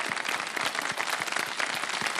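A studio audience at a live kids' segment of a television show claps steadily throughout, a dense, continuous wash of many hands applauding with no pauses.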